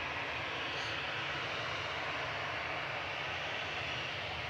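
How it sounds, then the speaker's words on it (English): A steady, distant roar of jet engines from an EasyJet Airbus A320 Classic, about fifteen years old, taxiing out at Manchester Airport, a continuous broadband rumble with no talk over it. "In front of us is an A320 Classic of EasyJet,"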